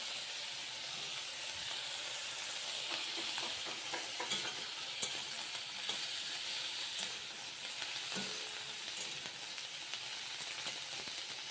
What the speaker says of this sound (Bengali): এরপর ফুলকপিটা আমি ভেজে নেব। দেখো ফুলকপিটা আধ ভাজা হয়ে গেছে। এবার আমি এর মধ্যে ক্যাপসিকামটা দিয়ে দেবো।